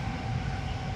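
Steady, loud low rumble of a train running on a nearby railway line beside a dirt road and farmland, continuous and even throughout with no voices.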